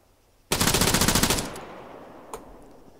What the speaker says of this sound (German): Wo schieße ich denn am besten auf das Fahrzeug?